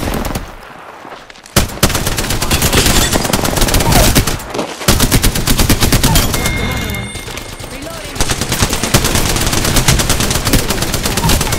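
Automatic gunfire in the video game Apex Legends, rapid loud bursts of shots in long sustained streams with brief pauses, close and dominant, with occasional game chatter underneath.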